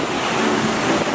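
Ocean surf washing onto a chilly beach, a steady broadband rush with wind noise on the microphone and no clear breaks between waves.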